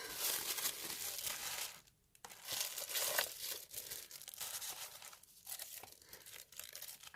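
Protective paper wrapping crinkles and tears in continuous bursts close to the microphone, with a brief pause near the two-second mark.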